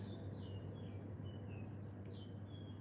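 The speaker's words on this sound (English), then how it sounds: "I'm hearing the birds chirping." Birds chirping outdoors late at night, with faint high tweets and short calls drifting over a steady low hum, distant and soft with no talking.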